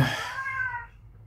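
A house cat gives a single drawn-out meow, fairly close and moderately quiet, fading out over about a second with no talking.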